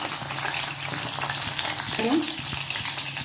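Onions sizzle and crackle in hot oil, a continuous close frying hiss with small pops and a brief scrape of stirring.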